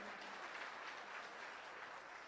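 Applause rises from an audience at a gathering in Jaipur: many hands clap in an even, dense patter, steady and somewhat distant, with no voices.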